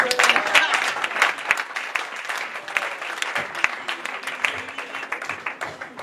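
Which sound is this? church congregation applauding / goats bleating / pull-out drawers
church congregation applauding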